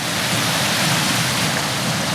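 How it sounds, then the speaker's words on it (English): A waterfall in bad weather pours in a steady, dense rush of broadband water noise, close and unbroken, with no voices. "found this lovely waterfall."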